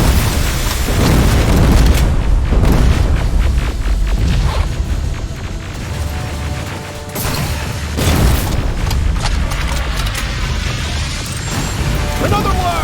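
Heavy booms and crashing blasts from rockets exploding in the first-person shooter Terminator Resistance, loud and repeated across the scene with shouted voices in between.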